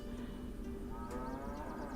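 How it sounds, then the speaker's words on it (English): Cows in a shed in the video game Milkmaid of the Milky Way moo in a low, drawn-out call, with other moos overlapping over a steady background hum. "I heard impatient mooing from the shed."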